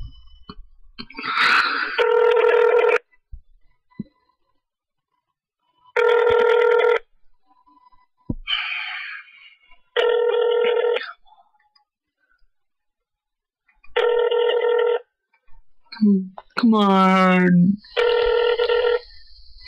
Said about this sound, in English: Ooh, answer that phone.